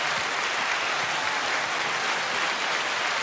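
Steady crowd applause from a studio audience, dense and even for about three seconds with no voices over it.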